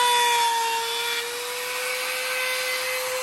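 A power tool cuts a hole in a wooden speaker baffle, a steady, close, high-pitched whine with a constant tone that dips slightly in loudness partway through.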